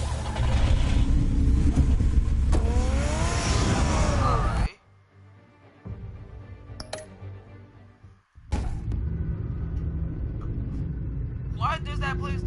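A car in Batman: The Telltale Series video game, its engine rumble rising and pulling away over a long stretch under dialogue and music, dropping out for a few seconds mid-scene before the ambience returns.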